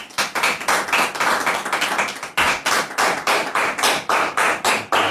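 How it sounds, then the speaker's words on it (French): Studio audience applauding on the set of a French-language TV talk show, a dense rhythmic wash of many hands clapping steadily and loudly throughout, with a brief dip midway before the clapping surges again. "alors qu'on le reçoit sous vos applaudissements"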